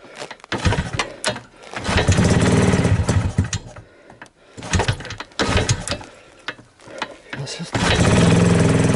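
A motorcycle engine at minus 20 cold sputters and catches in bursts, revving loud then dropping away, repeatedly stalling and restarting close by, with a short spoken word.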